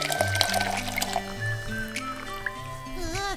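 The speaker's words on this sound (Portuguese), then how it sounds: "Água quente, Ronaldo?" Hot water poured into a cup for morning coffee in a kitchen, a steady filling sound that rises in pitch toward the end, layered with tonal, music-like notes throughout.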